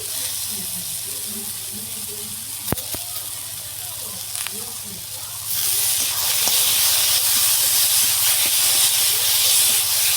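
River fish curry with spring onions sautéing in a pan, a steady hiss and sizzle that swells louder partway through, with faint clinks and background voices.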